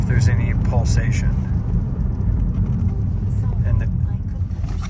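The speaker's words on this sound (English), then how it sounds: "I'm going to get it up to about 50 miles an hour, and then I'm going to brake pretty hard" A Mazda car drives at speed on the road, heard from inside as a steady low engine and road roar with tire rush, while someone talks over it throughout.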